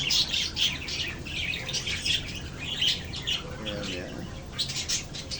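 Pet cockatiels and parakeets kept in cages chirp and squawk in bright, repeated bursts at close range, a busy overlapping chatter that continues throughout alongside some softer low calls.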